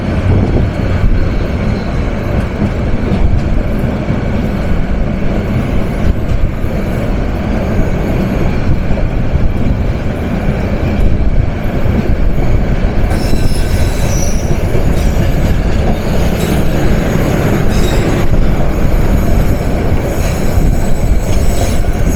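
The intercity Cox's Bazar Express roars past at close range, a loud, sustained rumble of rail cars with squealing wheels and clattering joints lasting the whole stretch.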